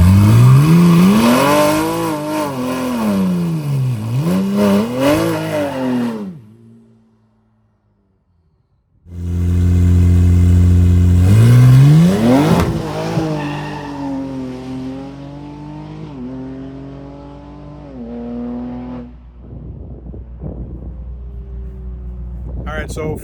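A car with nitrous does a burnout at a burnout championship, its engine revving hard in repeated loud rising and falling sweeps, then after a short gap screaming again with squealing tires; a voice talks over part of it.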